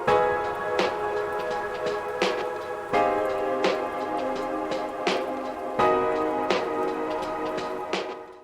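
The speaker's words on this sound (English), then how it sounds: "adding a simple rain sound on the background or a simple white noise can fill the mix" Rain sound effect blended into a dark ambient music track, a steady wash of drops beneath sustained tonal pads and a repeating percussive hit about every second or so, with no voices present.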